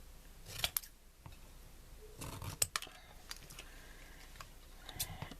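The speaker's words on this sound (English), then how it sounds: "And then I'm just going to trim this down." Paper for a handmade stamped card is trimmed with a cutter or scissors, giving a few short, sharp snips and slides spaced out over quiet room tone, fairly close and soft.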